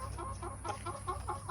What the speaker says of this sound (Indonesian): Ini ada ayam bangkok silang kampung.